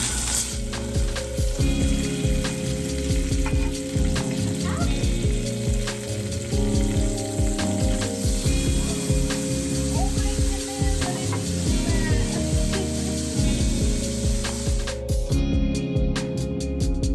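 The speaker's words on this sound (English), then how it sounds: "Okay, so now I'm gonna throw the tofu in here." Extra firm tofu fries in a hot pan, giving a loud, continuous sizzle with scattered crackles and spatters, close up, while music plays steadily underneath throughout.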